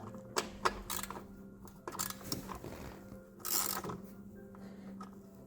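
Ratchet clicks and metallic tool sounds while loosening screws on a Yamaha XJ 600 motorcycle during routine servicing, with several close, irregular bursts of clicking over a low background hum.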